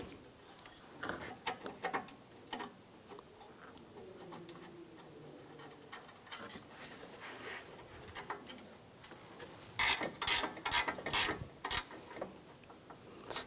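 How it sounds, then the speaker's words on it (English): A ratchet snugging down radiator bracket bolts on a 2004-2009 Toyota Prius, quick bursts of clicking near the end after quieter scattered taps and handling noises, close by with no talk. "Snug that down and put the bolts in for the bracket."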